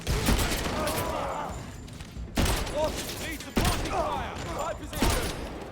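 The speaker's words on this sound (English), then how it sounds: "Shotgun." Shotgun fire in the 007 First Light video game, three heavy blasts spaced about a second apart over a loud combat bed, with voices talking in between.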